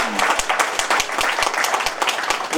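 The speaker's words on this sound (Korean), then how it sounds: "우리 안철수 우리 박수 주세요" An audience at a Daegu town-hall event claps for Ahn Cheol-soo, a dense, loud burst of many hands with distinct individual claps punching through, sustained evenly throughout.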